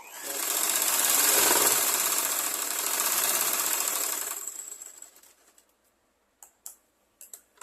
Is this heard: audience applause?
no